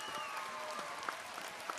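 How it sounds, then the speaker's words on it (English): A recorded round of applause sound effect plays from a device, a crowd clapping steadily at moderate level without talk over it. "So we got to give her a round of applause."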